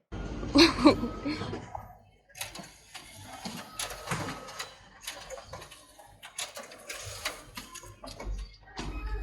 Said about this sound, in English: click on this button and hear the sweet, sweet sound of your document being printed